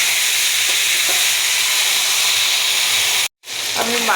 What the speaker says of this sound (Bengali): হলুদ, এলাচ, দারুচিনি, তেজপাতা দিয়ে মাছের মাথাটাকে আমি ভালোভাবে কষিয়ে নেব।